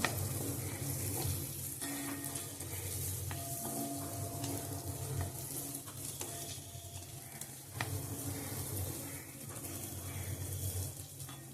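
Onions frying in a pan until crisp and darkened for chicken biryani, giving a steady, moderately quiet sizzle with occasional stirring scrapes and a faint clink.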